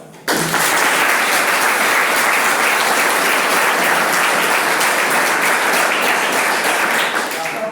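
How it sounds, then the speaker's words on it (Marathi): An audience of polytechnic students in Kolhapur claps for themselves at a motivational talk, loud dense applause bursting in after a brief pause and holding steady to the end. "तेव्हा एकदा स्वतःसाठी टाळ्या वाजवा."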